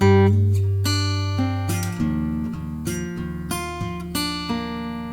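An acoustic guitar plays a short melodic passage, plucked notes ringing over a low sustained bass, clear and close with no voices.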